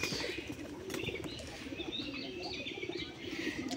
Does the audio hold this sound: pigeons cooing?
yes